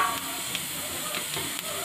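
Chopped onion hisses and sizzles in a pan with mustard seeds and cumin as jackfruit curry gets started, a steady frying crackle close by.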